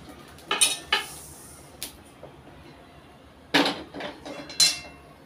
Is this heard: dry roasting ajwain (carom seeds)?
yes